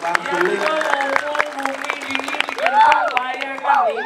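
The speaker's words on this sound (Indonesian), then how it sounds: "tepuk tangan untuk penabur dua ini weh." Audience applause at a Balinese calonarang temple performance, a steady patter of clapping with crowd noise and a voice talking over it, along with sustained tonal sounds that may be instruments.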